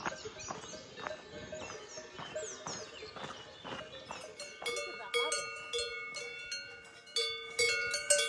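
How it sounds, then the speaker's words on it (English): Clanking cowbells ring irregularly from several cows on a foggy Dolomites mountain pasture along the Alta Via 1, at a middle distance, a steady metallic jangle with faint talk now and then. "It may be foggy, but we can still hear the sound of the cows."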